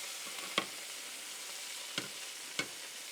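Onions frying in melted butter in a pot for risotto give a soft, steady sizzle with a few sharp clicks of a utensil against the pot, close and fairly quiet.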